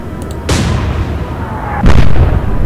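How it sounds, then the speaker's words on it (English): In the naval warfare game Atlantic Fleet, a 4-inch high explosive shell fires with a loud booming blast, and a second heavy report follows about a second and a half later over low rumble. "4-inch high explosive shell heading your way"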